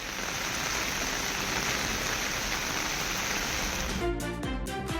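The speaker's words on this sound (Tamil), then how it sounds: "திடீரென கருமேகங்கள் சூழ்ந்து கனமழை பெய்தது" Heavy rain pours down steadily after a spell of summer heat, a dense, loud hiss of drops on surfaces that holds constant before thinning into a few scattered drips at the end.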